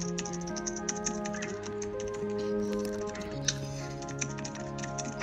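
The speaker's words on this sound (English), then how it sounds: "I was typing and reading." Computer keyboard typing during an online private-server game session: light, irregular clicks scattered over steady tonal game music and background hum.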